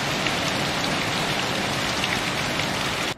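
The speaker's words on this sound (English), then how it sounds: "all of a sudden I heard it pouring outside" Heavy rain pours outside, a dense, steady hiss of drops on surfaces that continues unbroken and fairly loud from start to finish.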